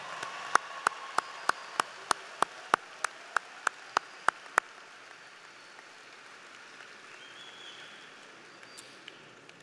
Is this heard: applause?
yes